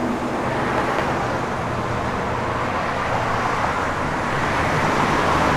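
A 1961 Chevrolet Impala Bubble Top on lowered air ride cruises along, giving a steady broadband rumble of engine and road noise, loud and constant throughout with no talking.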